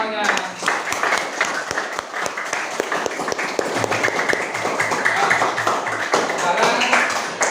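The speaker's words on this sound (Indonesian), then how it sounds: "Tepuk tangan untuk kita semuanya." Classroom students clap together in a brisk, uneven burst of applause, with voices mixed in and quick hand taps sounding throughout.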